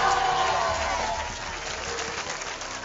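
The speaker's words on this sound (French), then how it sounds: "vous pouvez vous applaudir très fort s'il vous plaît" A crowd of volunteers applauding, a dense steady wash of clapping from many hands that slowly fades, with some voices mixed in.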